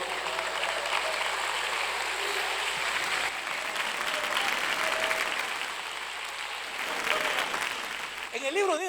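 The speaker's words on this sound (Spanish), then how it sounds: "fuerte las palmas para Jesús" A church congregation claps steadily and loudly for several seconds, a dense even wash of applause that briefly dips and swells, with faint speech beneath and a voice rising at the end.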